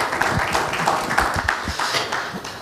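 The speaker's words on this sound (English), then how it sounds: "he deserves a round of applause, please" An audience at a talk on export marketing claps warmly, a dense patter of individual hand claps running steadily throughout and tapering slightly at the close.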